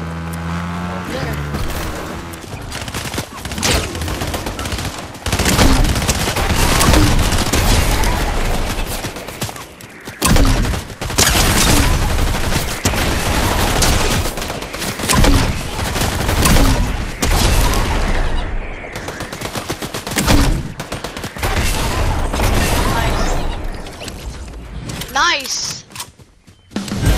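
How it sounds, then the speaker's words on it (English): Rapid video game gunfire crackles in dense, sustained bursts with booming hits, loud and close throughout, while a player talks over the shooting. "Someone's shooting at me."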